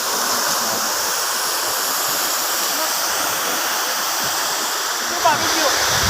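Water pours down a waterfall in a steady, loud broadband rush from nearby, with a brief splash near the end.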